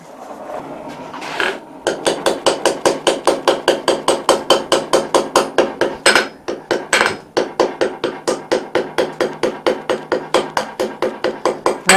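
A hammer strikes a butt welded ring on a forge anvil, ringing out in a fast, steady series of loud metallic blows with one brief pause early on and a couple of short breaks later.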